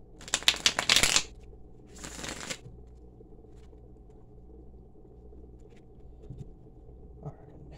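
Two quick bursts of riffling cards, the first louder and longer, then a low steady hum with faint clicks.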